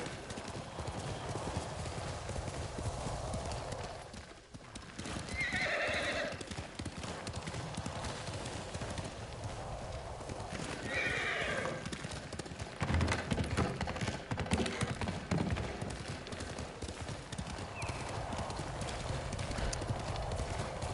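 A horse gallops in the PS5 game Ghost of Tsushima, with steady, close clip-clop hoofbeats throughout and a few brief whinnies over soft game ambience.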